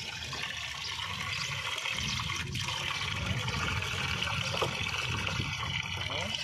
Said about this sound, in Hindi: ये खोल दिया ये पानी इन्होंने